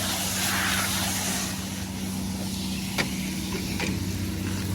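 A round baler speeds up to turn the bale, a steady machine drone with a hum running under it and a couple of short mechanical clicks near the end, heard outdoors with no one speaking.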